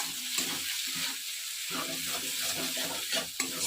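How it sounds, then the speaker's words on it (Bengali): Potatoes and egg frying together in a pan, a moderate crackling sizzle with uneven bursts and a few soft clatters, fairly close, with no talk. "তো আলু ভাজা করছি আর সাথে একটা ডিম দিয়ে দেব।"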